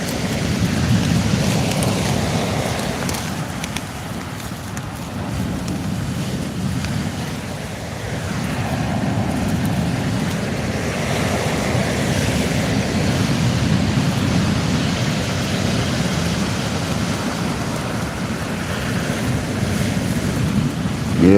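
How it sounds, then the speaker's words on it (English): Sea waves wash in and roll out with a steady, deep surging roar, swelling and easing gently at a fishing spot, with no voices over it. "And you've got the sound of the waves"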